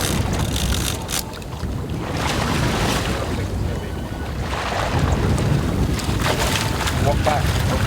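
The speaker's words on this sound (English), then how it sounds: "I'm gonna move the boat." A boat's engine drones over steady wind buffeting the microphone, with water rushing and splashing alongside throughout.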